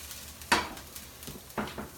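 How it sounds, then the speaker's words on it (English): Onions sautéing in a pan are stirred, giving two quick scraping clatters over a faint, soft sizzle, close and quiet. "I'm just going to give these onions a good little stir here"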